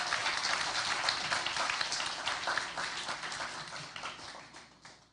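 A spelling bee audience gives dense, steady applause for the students. The many hands clap at close range and the sound slowly tapers off toward the end.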